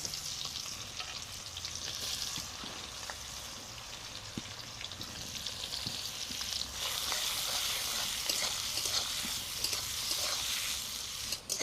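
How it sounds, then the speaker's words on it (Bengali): Chopped onions fry in hot oil with dried red chillies, bay leaf, star anise, black cardamom and mace for a duck curry, giving a steady dense sizzle with stirring scrapes, growing louder and busier partway through. "এর মধ্যে দিয়ে দিব এবারে কুচানো পেঁয়াজ।"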